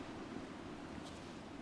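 Steady wind blows over a calm sea with soft, gentle waves on the Dear Esther island, a continuous even wash with no voices.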